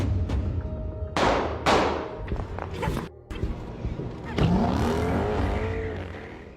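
A stolen car pulls away in a movie scene, with bursts of engine noise, a tire squeal and passing whooshes cut together amid other action sounds, fairly loud and uneven.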